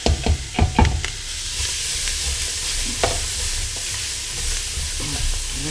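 A spoon scrapes and stirs onions and vegetables through a dark gumbo roux on the stovetop, a few sharp clattering strokes at first, then a steady sizzling hiss that carries on underneath.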